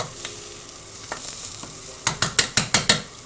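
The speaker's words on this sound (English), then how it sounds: "Just going to mash that down." Potatoes mashed in a pan for sausage and mash, with a few soft scrapes followed by six rhythmic, evenly spaced thumping strokes of the masher, close and fairly loud.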